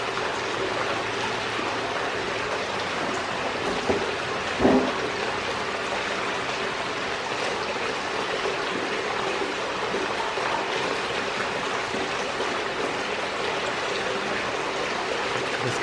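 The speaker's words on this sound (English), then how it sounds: "I'm going to start the Gold Hog Mini Stream Sluice" Water runs steadily through a Gold Hog Mini Stream Sluice used for gold prospecting, a constant close rushing trickle with a couple of brief knocks near the start.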